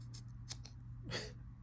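A few quick, crisp snips of Victorinox scissors, close by, with one longer rasping cut through tough paracord near the end over a low steady hum.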